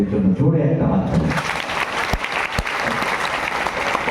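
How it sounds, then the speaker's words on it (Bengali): Audience applause for students and NSS volunteers at a college event in Malda, starting under a spoken announcement, then rising into steady clapping from a crowd with a couple of sharp louder claps. "ছাত্রছাত্রী এবং বিশেষ করে এনএসএস ভলেন্টিয়ারদের জন্য জোরে একটা হাত তালি"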